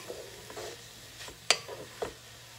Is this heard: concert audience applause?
no